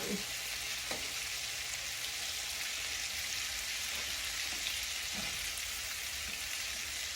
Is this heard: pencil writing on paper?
no